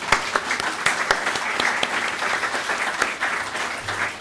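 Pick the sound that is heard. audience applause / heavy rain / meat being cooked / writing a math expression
audience applause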